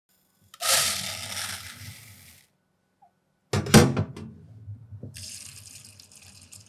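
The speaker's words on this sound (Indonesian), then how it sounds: "Sekarang berasnya kita cuci dulu sampai airnya agak bersih." Rice being washed for nasi kebuli: tap water pours into a container, stops, then splashing and a clunk as the grains are rinsed and stirred, followed by more running water, close and fairly loud, without talk.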